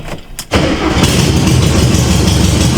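A 1973 Volkswagen Beetle engine cranks briefly, then catches and settles into a loud, steady running idle.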